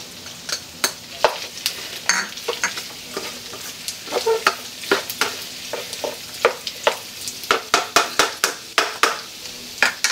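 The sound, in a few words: onions frying and stirred in sisig pan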